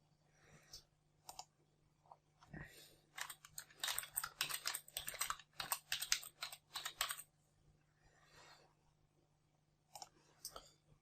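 Fingers typing on a computer keyboard, quiet rapid clicky keystrokes in bursts with short pauses, close and faint against a low background hum.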